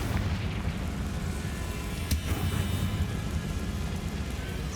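The Confringo explosive spell goes off in Hogwarts Legacy. One sharp blast stands out about midway over a constant rumbling, hissing game ambience.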